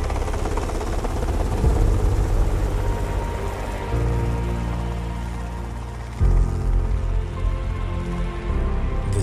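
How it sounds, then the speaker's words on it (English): A helicopter flies past with a steady, loud rotor thump and engine drone that shifts in tone partway through as it passes close. "The chopper flew by the drone dozen of feet below."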